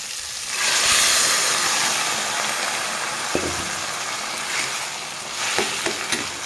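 Boiled chana dal tipped into a pan of cooked-down spices for a vegetarian dal, giving a broad, steady sizzle with a few soft scrapes of stirring near the end.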